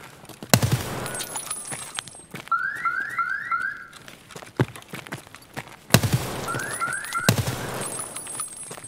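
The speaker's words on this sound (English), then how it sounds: "I made a fluky hipfire headshot on that guy there" SA-58 rifle fired from the hip in the Escape From Tarkov video game, loud sharp gunshots in bursts at the start and again near the end, with metallic clinks and game effects between.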